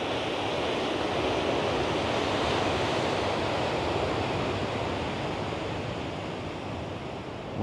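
Sea waves at Puerto, Tenerife, a broad steady wash of surf with some wind rumble, continuous and fairly loud with no speech.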